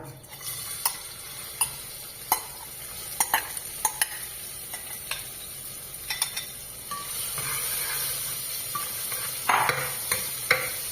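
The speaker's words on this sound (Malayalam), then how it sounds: "ഓയിൽ ഒഴിച്ച് ആവശ്യത്തിന് ഒഴിച്ചാൽ മതിയേ രണ്ട് സവാള ചെറുതായിട്ട് അരിഞ്ഞു വെച്ചിട്ടുണ്ട് അത് വഴറ്റുക" Two finely chopped onions sauté in oil in a pan for pork vindaloo, giving a soft continuous sizzle punctuated by sharp ticking stirs of the spoon against the pan every second or so, growing a little louder toward the end; no one speaks.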